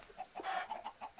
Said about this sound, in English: There are fucking many chickens over here.